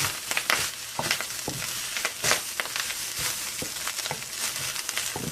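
Egg fried rice being stir-fried in a pan after soy sauce goes in, giving a steady crackling sizzle broken by repeated scraping and tossing strokes of the spatula, close and moderately loud, with no talking.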